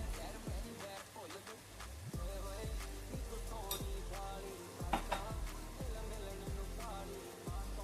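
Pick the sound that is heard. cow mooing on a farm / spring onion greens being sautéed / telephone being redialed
spring onion greens being sautéed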